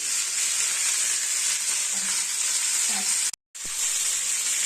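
Chicken frying in a pan for a Kenyan chicken stew, a loud steady hiss and sizzle up close, briefly cut off once before resuming.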